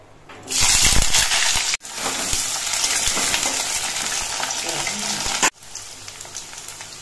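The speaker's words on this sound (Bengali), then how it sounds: "এবার প্রথমে আমি আলুগুলো ভেজে নিচ্ছি।" Potatoes fry in hot oil in a wok, giving a loud, steady sizzle with stirring scrapes that cuts out sharply twice.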